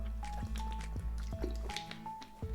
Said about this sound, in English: All right, just gonna take a sip of water.